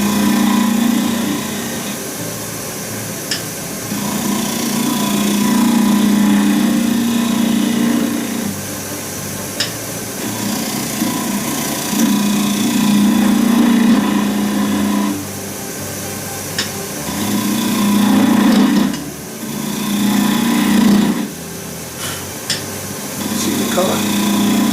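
A woodturning lathe runs while a tool cuts an epoxy resin shaving brush blank, a steady motor drone broken by several rougher, louder stretches of cutting with brief pauses between them, and a voice talks over part of it.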